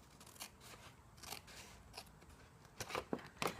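Scissors cutting a paper template along a red line, soft crisp snips and crunches, close and quiet, growing louder and quicker toward the end.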